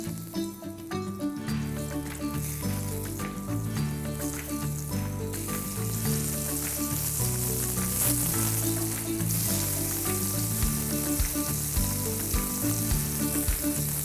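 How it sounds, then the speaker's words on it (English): Marinated mushrooms sizzle steadily on a hot greased grill pan, a loud continuous frying hiss with occasional stirring and clinks throughout. "Pan is hot, so we'll grill the marinated mushrooms."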